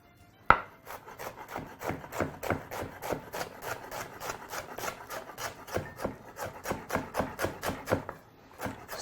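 A knife chops white onions on a board in a steady, brisk rhythm of close, crisp thuds that carries on for several seconds with no talking.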